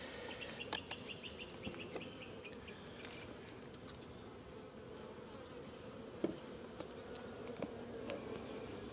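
Honey bees swarm around a colony with white wax comb, giving a faint, continuous buzzing hum with individual insects droning past close by.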